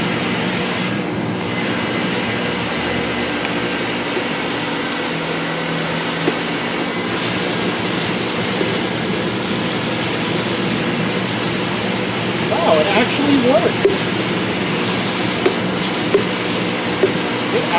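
An old, weathered shop vacuum with no filter runs continuously, a loud, steady whooshing roar with a faint motor whine that wavers and sputters briefly near the end.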